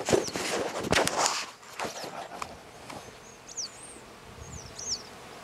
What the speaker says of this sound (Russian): Посмотрите, как работают пчелы. И какой здесь звук.